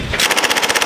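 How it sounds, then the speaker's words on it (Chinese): An M240B light machine gun fires a rapid, loud, close burst of evenly spaced shots during a US Marine Corps desert urban-combat exercise. "地面上的陆战队大兵正在用 M240B 轻机枪扫射前方目标"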